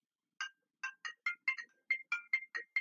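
A mobile phone that should be on silent rings with a bright, chiming ringtone melody of about a dozen short, evenly spaced notes, clear and close against near silence.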